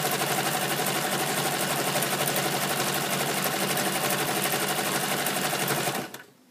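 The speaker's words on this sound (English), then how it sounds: "stop before you get to the corner, lift the presser foot, turn the fabric round and start sewing again" A sewing machine stitches a patch onto fabric for a bag, running with a steady, fast mechanical whir and rapid needle rhythm before stopping abruptly near the end.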